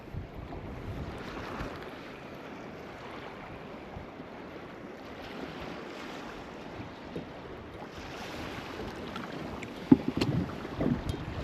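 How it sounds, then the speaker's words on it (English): Wind blows steadily across a cold lake around a kayak, with low rumbling gusts and soft water lapping against the hull, no voices. "I don't think this wind's gonna last long."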